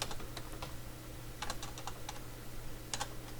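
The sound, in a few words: typing on a computer keyboard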